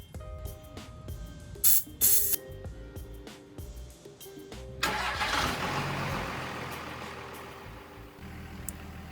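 Refrigerant spraying from a can into a car's A/C system while the engine runs, a steady hiss rising sharply midway and holding loud against a low engine hum, with scattered clicks and handling sounds before it.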